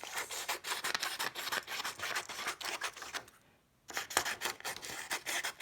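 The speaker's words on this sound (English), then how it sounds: "I got my scissors, and I cut strips like this" Scissors cut strips of white paper for a sculptural mask, giving a close, steady run of crisp rasping snips with a short pause before the cutting resumes.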